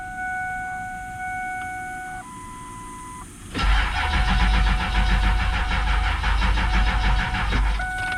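A truck's high-torque gear reduction starter cranks and the engine catches, roaring to a loud, steady idle after a few seconds of quiet electronic beeping.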